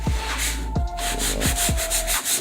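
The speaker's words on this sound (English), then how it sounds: "sanded them down with a sponge sander" A sponge sander rubs across a wooden countertop in quick, steady back-and-forth strokes, close and continuous, with a rhythmic swishing pulse and no voices.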